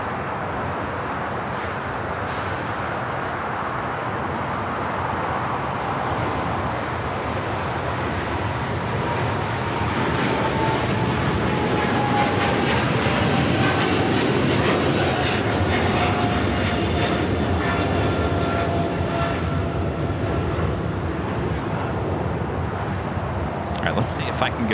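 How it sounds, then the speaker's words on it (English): An American Airlines Boeing 777-300ER bound for London Heathrow rolls for takeoff on runway 25 Right at LAX, a steady broad jet roar held at even loudness throughout with a faint rising whine. "we do have the American 777-300ER heading to London Heathrow, now rolling down 25 right"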